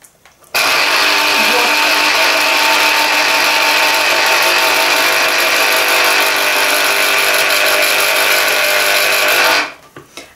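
A Delta DL-0234 electric citrus juicer runs with a steady, loud motorized whir and faint mechanical rattle, starting abruptly, holding for about nine seconds, then cutting off, with no talk over it.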